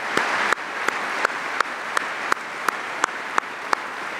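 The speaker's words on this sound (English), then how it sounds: "So how about an applause for Mama Rock, who's here tonight" An audience at a National Guard Association speech in Detroit gives steady applause for a guest. A dense wash of clapping is punctuated by regular, louder individual claps about every third of a second, with no talk.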